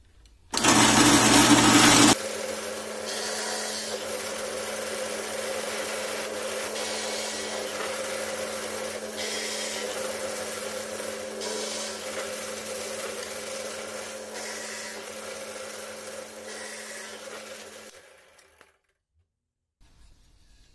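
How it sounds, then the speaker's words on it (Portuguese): A power drill bores holes in a crosspiece of a rustic wooden window frame. A loud burst opens, then a steady, close motor whine runs for about fifteen seconds before winding down to silence. "vou fazer as furações, já sei que vai sair centralizado porque está regulado"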